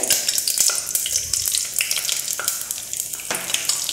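Unroasted semolina roasting in a pan, a continuous dry sizzle broken by repeated scraping strokes of a stirring spoon, close and fairly loud with no talking.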